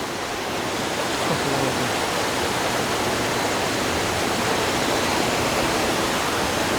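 A river rushes loudly beside cliffs, a dense, constant roar of flowing water close by that fills the whole clip without pause.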